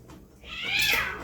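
A cat meows once, a drawn-out rising and falling call that swells in the middle and trails off, fairly close and alone, in a home setting during a meal.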